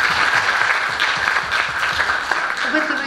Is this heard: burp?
no